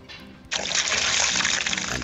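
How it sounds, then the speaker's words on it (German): Water gushes steadily into a drinking hose in a point-and-click adventure game, starting abruptly and running as a loud continuous pour for over a second before easing off. "So viel Wasser in den Schlauch, wie es eben geht, und knote ihn dann zu."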